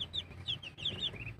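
Chicks give soft, repeated high peeping and clucking calls, close by, with low background hum and no talking.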